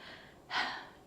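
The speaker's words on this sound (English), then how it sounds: "take a deep breath" One deep, breathy inhale rises sharply and fades over about half a second, close and soft, during a calm morning yoga session.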